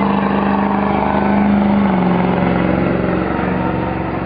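Heavy truck and tractor pulling engine roaring continuously at a national pulling event, loud and close with a droning pitch that shifts as the pull gets underway.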